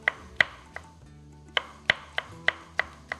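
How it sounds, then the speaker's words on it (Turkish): Knife finely chopping Charleston and sivri peppers on a board, quick clusters of crisp taps in short bursts with brief pauses between, close and clean with no talk. "Ondan sonra tekrardan çarliston ve sivri biberim. Onları da ben hemen minik minik şöyle bir doğrayacağım."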